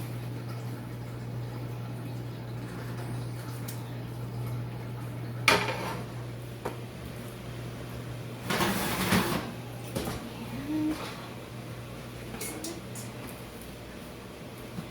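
A gluten-free lemon pound cake in its pan comes out of a kitchen oven: scattered metallic clanks and a door thud, with a denser clatter midway, over a steady low appliance hum.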